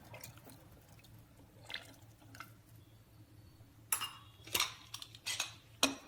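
Sambhar ingredients being stirred in a metal pressure cooker, with a run of close, bright spoon-on-pot clinks and wet scraping that grows louder and busier toward the end after a quiet start.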